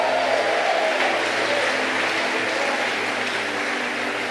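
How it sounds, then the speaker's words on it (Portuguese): A church congregation at a Sunday service claps, with some voices rising in shouts. The loud, steady applause fills the whole stretch, with a faint vocal trace early on. "Dê um aplauso a Ele e libere um grito de liberdade."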